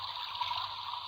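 Water running steadily into an Elc toy washing machine, a continuous soft hiss and trickle, fairly close and even in level with no talk over it.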